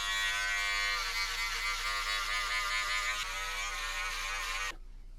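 Electric hair clippers buzz steadily and loudly while trimming a beard line, running without pause for almost five seconds before cutting off abruptly.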